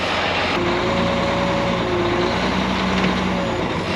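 A vehicle engine idles steadily in extreme cold of about minus 35 to minus 45 degrees on the Alaska highway toward Deadhorse and Prudhoe Bay. It gives a loud, continuous drone with a low hum, close by and with no talk.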